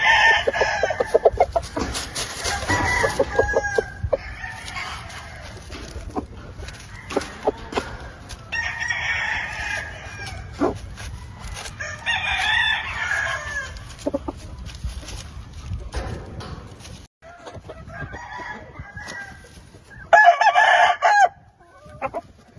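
A Sweater Roundhead gamecock crows loudly several times at close range, mixed with clucking from other chickens on a farm, with a brief louder burst near the end and no talking.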